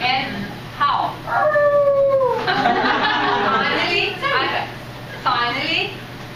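A person's voice imitates a moaning, wailing howl like a sick dog, rising and falling in several drawn-out cries with short pauses between them, loud and close.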